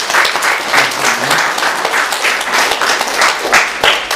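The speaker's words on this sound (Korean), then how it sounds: "우리 모든 분들 위해서 서로 박수하며 감사하겠습니다" A church congregation applauding during a Sunday worship service, a close, loud burst of many hands clapping in an uneven, lively rhythm.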